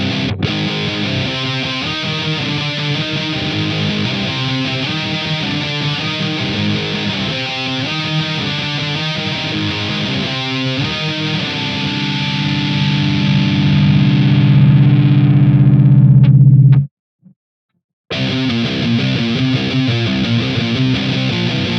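Heavily distorted electric guitar dialed in toward a specific band's tone plays loud chugging riffs through an amp and effects, rhythmic palm-muted bursts giving way to sustained ringing chords that cut off abruptly, then resume.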